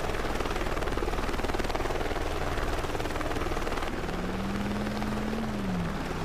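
A news helicopter in the video game Driver San Francisco gives a loud, steady rotor chop throughout. A brief whining engine tone rises over it near the end, and no one speaks.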